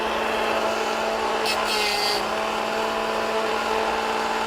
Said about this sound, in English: let it sharpen and keep going until you don't hear it sharpening anymore